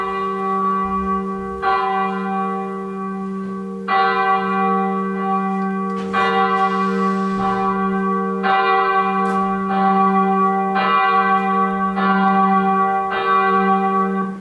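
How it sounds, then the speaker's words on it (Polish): A church bell tolls loudly and alone in a slow, steady rhythm, with about seven strokes, each sustaining a rich ringing tone that overlaps the next. "Co to? Słyszysz? Bije dzwon?"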